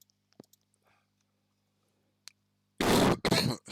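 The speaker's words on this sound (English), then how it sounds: "Sorry for the cough." Single cough near the microphone, a short harsh burst followed by a second quick bark, after near silence with faint clicks.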